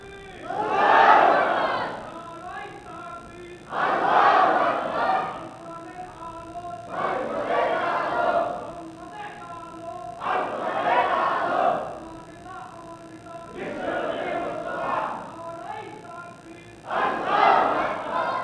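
A large crowd at a gathering in Bangladesh chants the takbir in unison. Six loud shouted bursts come at a steady rhythm about three seconds apart, with brief lulls between them.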